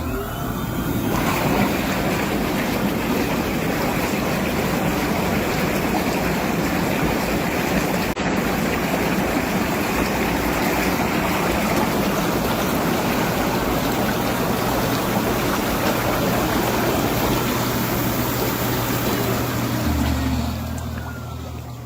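Air jets of a Coleman SaluSpa four-person square inflatable outdoor hot tub churn the water into a loud, steady, close bubbling roar that runs unbroken for about twenty seconds before easing slightly at the end.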